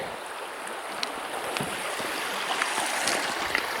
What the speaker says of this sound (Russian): Видите, одна речка впадает в другую. И сразу порожек.